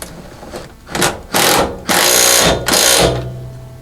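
A power tool tightens a bolt on a door bracket for a CF Moto U-Force 1000 UTV, whirring loudly and close in several short bursts with brief pauses between them.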